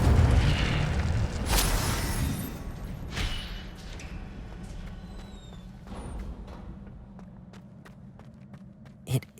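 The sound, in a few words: Incendio fire spell burst in Hogwarts Legacy video game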